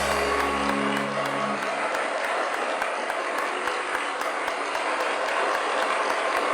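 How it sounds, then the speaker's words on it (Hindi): A studio audience applauds on a late-night talk show, a steady dense wash of clapping and crowd noise, with a brief low tone at the start. "इस पे बड़ी तालियां बजवा रहे हो ना बेटा?"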